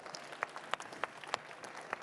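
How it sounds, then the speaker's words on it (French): Applause from a panel audience at a business event in France: scattered, fairly faint claps with distinct individual hand strikes over a brief span. "ça s'applaudit quand même"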